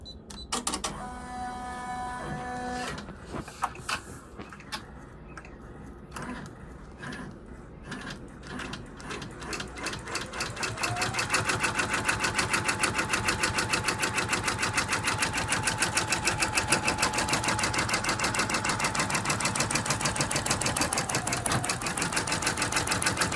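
A sewing machine runs a basting stitch around the whole area of a Middleton Razorbacks sweatshirt, a rapid mechanical stitching rattle that starts uneven and then settles into a louder, steady, fast run with no talking.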